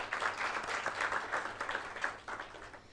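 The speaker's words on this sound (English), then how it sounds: "request you all to welcome her with a loud applause." Steady applause from an audience, many hands clapping together at moderate volume, fairly distant and continuous throughout.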